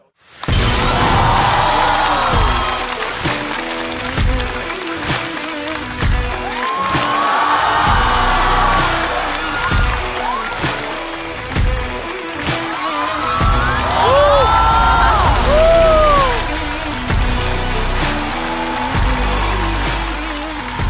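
A live stand-up comedy audience applauds and cheers as comedians are welcomed to the stage, a loud, sustained roar of clapping with whoops and shouts that swells in waves over about twenty seconds.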